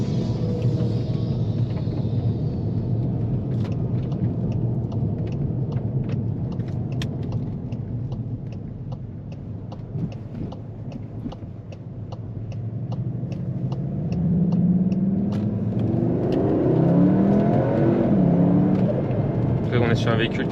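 Cabin sound of a 300 hp Cupra Formentor VZ with Active Sound, a low steady engine rumble that swells toward the end alongside a regular ticking, with a person talking over it.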